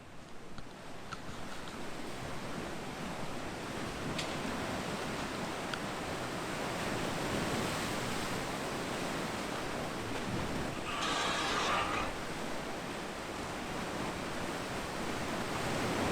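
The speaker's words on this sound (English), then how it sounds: "We're at our favorite secret beach" Ocean waves washing onto a beach, forming a steady broad hiss of surf that holds at an even level throughout, with a brief brighter swell partway through and no voices.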